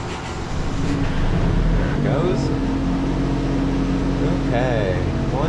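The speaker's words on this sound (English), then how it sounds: "genset started." A boat's genset generator with an electric fuel pump running during a boat refit, giving a steady, loud low engine drone with faint voices under it.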